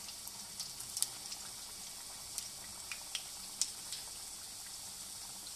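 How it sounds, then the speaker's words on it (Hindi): Chicken drumsticks fry in oil over a medium flame, making a steady, quiet, hissing sizzle. Occasional tiny pops and crackles sit on top, with no talking. "इनको हम मीडियम आंच पे फ्राई करेंगे"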